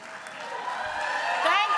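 Applause from a nursing college commencement crowd, a continuous wash of clapping with a voice speaking over it.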